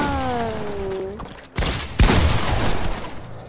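Video game gunfire bursts out loud and close in the second half, a dense volley following an earlier sustained tone, with no voices over it.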